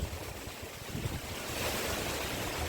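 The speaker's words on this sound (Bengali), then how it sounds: "ঝড়ের মতন হাওয়া দিচ্ছে" Strong storm wind gusts outdoors among areca, guava, jackfruit and coconut trees beside an outdoor cooking spot, a steady loud rushing roar with buffeting microphone noise throughout and no talk.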